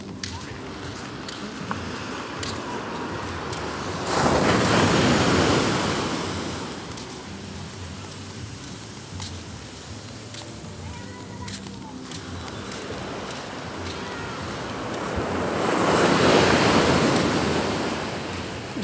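Ocean surf breaks on a beach by a fishing landing in the heat, two big wave swells rising and falling over a steady rush of water and wind buffeting the microphone.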